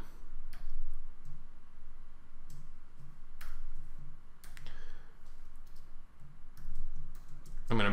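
Someone types on a computer keyboard, producing scattered, light key clicks in short bursts with uneven pauses, close and fairly quiet, with no speech over it.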